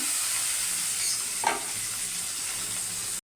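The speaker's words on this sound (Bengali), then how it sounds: "পেঁয়াজ দিয়ে একটু ভেজে নিচ্ছি।" Onions fry in hot oil that was tempered with cumin, dried chilli and bay leaf, for a pumpkin and potato curry with eggs. A steady, loud sizzle runs throughout, with one brief stirring scrape partway through.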